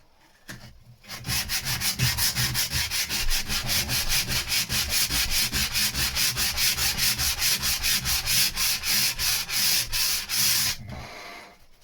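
Hand sanding of filler on the underside of a boat deck, rapid rhythmic back-and-forth rasping strokes, close and steady for about ten seconds before stopping, with no talking.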